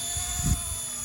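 A small RC scale MD500 model helicopter whines with a steady high-pitched motor tone and rotor hum, a brief close burst with no voices.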